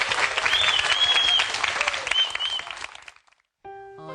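A church congregation in a broadcast studio applauds to welcome a woman deaconess from Gimpo as she comes forward to testify. Full, dense clapping from a crowd fades out near the end, followed by a brief tonal musical sound.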